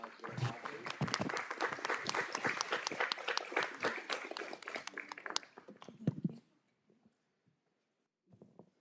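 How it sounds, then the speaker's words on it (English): A school board meeting audience applauds the student council members: steady, dense clapping for about six seconds that then stops, leaving near-silence with a brief murmur at the end. "Please, let's give him a round of applause."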